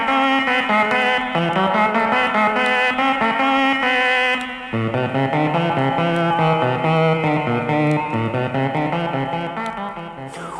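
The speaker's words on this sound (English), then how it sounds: "that was still the Stylophone pocket-sized electronic organ powered by that tiny little PP3 battery" A 1960s Stylophone pocket electronic organ, battery powered, played through a separate amplifier: a buzzy, reedy melody of stepped notes with a slight warble, loud and continuous with no talk.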